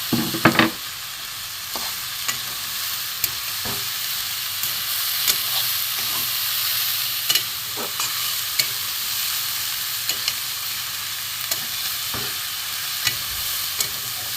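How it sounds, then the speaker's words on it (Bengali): Boiled mung beans being fried and stirred in a wok, with a steady soft sizzle under repeated scraping and clinking of the spatula against the pan, close by. "এটা ভালো করে ভেজে নেবো আমি কড়াটা করে যাচ্ছি"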